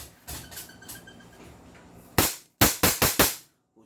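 A powerful 400 FPS SUMOBRA air gun fires one loud, sharp shot, followed at once by a quick burst of four more sharp reports close to the mic, with no speech in between.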